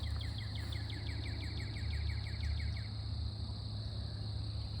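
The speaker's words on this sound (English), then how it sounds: "so you can hear the bird song" Quick repeated bird chirps ring out for a few seconds over a steady low hum and insect-like background drone, then fade leaving the hum.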